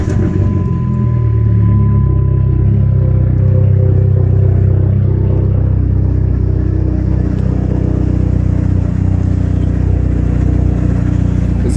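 A Dodge SRT4 engine rumbles loudly and close up as it starts, then settles into a steady low idle for the rest of the clip.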